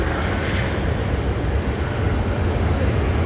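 A Jetstar airliner departs Auckland Airport, a loud, steady broadband roar with a heavy low rumble that holds constant throughout, heard from a distance and without talk.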